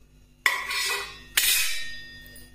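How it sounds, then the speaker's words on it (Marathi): Two sharp metallic clanks ring out about a second apart as a metal rack is set down inside a heated pressure cooker, each followed by a fading ring. "त्याच्या खाली आपल्याला ही अशी एक जाळी ठेवायची आहे"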